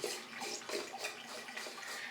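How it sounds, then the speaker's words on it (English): Warm water streams steadily over a shower filter held under a tap, a soft continuous splashing and hiss with slight surges, close and moderately quiet, no talking. "place the shower filter under warm running water for 60 seconds or until the water runs clear"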